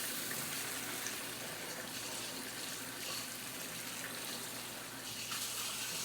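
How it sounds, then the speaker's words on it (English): Warm water is poured into the base of a seed starting tray, a steady rushing, splashing stream that runs continuously at a constant level with no pauses. "I'm going to add water to the base of my tray here."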